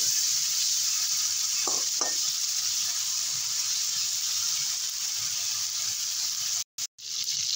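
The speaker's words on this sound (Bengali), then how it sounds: "মাছ ভাজা হয়ে গেছে, তুলে নেব।" Prawns frying in hot oil give off a steady, close sizzling hiss, with a couple of brief stirring scrapes early on and a sharp break just before the end.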